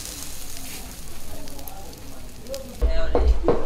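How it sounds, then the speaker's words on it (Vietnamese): Bean sprouts stir-frying in a pan in a Vietnamese mountain-village kitchen during a Tet meal, a steady loud sizzle with clattering stirring that grows heavier near the end, while voices talk nearby. "trong bếp trong kia đang xào nấu cái món giá đỗ kia"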